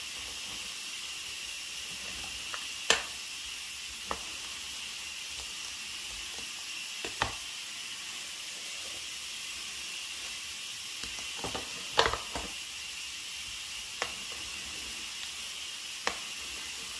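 Portions of meat fry in a pan with a steady, even sizzling hiss and occasional sharp pops and crackles, close by and with no talking.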